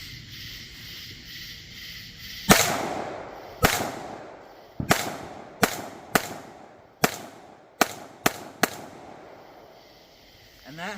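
A T-Sauce Raider shotgun is fired outdoors in a muzzle flash test, about nine loud, sharp blasts spaced one to two seconds apart, each with a short echoing tail.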